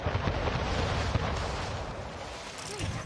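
Dense, continuous booming roar of ship cannon fire in the game Anno 1800, loud and close, with overlapping blasts blurring into a constant rumble.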